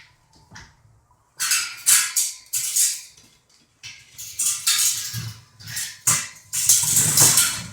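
A cart being pulled down a Harbor Freight 6 ft ATV ramp, with bursts of metallic rattling and scraping, loud and close, separated by brief pauses.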